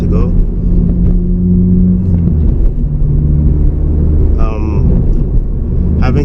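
A manual Honda Civic Si pulls away from a stop with a steady low engine rumble that rises slightly, while a person speaks over it throughout.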